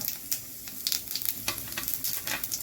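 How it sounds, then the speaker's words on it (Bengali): Sugar caramelizing in hot oil with bay leaf and whole cumin, a close crackling sizzle with sharp pops and stirring scrapes in quick irregular bursts. "চিনি ক্যারামেলাইজ হচ্ছে, তেজপাতা দিয়ে দিলাম এর মধ্যে, গোটা জিরে দিলাম"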